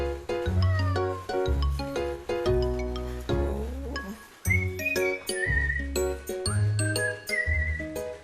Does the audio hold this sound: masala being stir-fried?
no